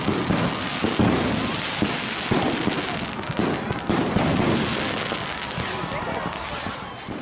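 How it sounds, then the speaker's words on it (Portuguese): Fireworks go off at a celebration in the drama Emanet, a loud, dense, continuous crackle of bursts and bangs that fills the whole stretch, with a voice talking over it. "Iniciamos com queima de fogos para comemorar o tombo da Kaninana."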